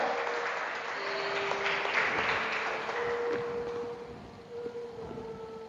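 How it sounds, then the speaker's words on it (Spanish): A church congregation applauds together during a night service, a steady broad clatter of clapping that swells and then eases slightly, with faint tones and a few voices mixed in. "Denle un aplauso al Señor."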